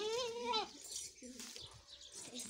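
A Gulabi goat at a Satara goat farm gives a loud wavering bleat up close, followed by fainter rustling, while someone speaks nearby.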